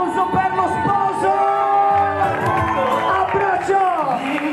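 Wedding guests cheer, whoop and shout for the groom, a lively close-up crowd clamor with overlapping voices and rising calls that go on for several seconds.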